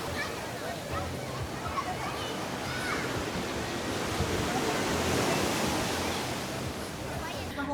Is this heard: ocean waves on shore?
yes